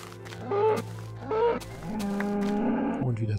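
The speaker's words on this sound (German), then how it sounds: "Und eine Kuh ist hier auch." Cow in Minecraft mooing: two short low moos followed by a longer drawn-out one, close and clear, with no talk over them.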